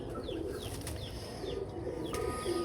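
Pigeons coo softly with a low throaty khur khur sound, several short rolling calls repeating at a relaxed pace, faint and close, over a light background hum.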